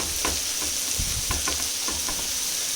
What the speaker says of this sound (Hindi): अब मैं इसमें ये डाल देती हूँ राइस